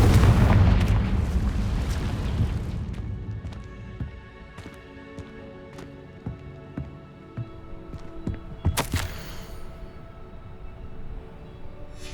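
A Confringo spell blast in the video game Hogwarts Legacy opens with a loud, deep booming explosion that rolls off and fades over several seconds, followed by scattered crackling impacts and a sharp burst later.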